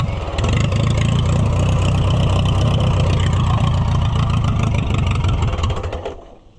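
A vintage Oliver HG-68 crawler tractor engine runs steadily and loudly close by after carburetor and magneto timing work, a continuous low rumble holding for about five seconds before dropping away at the end.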